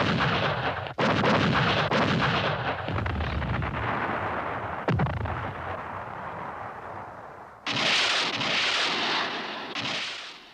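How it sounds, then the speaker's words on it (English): An artillery barrage on Da Nang during the Vietnam War thunders in heavy, booming blasts, with a sharp detonation midway and fresh loud volleys near the end, rumbling continuously with no speech. "The opening artillery barrage is enough to end resistance."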